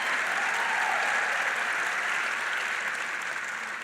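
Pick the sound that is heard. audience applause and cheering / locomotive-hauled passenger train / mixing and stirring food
audience applause and cheering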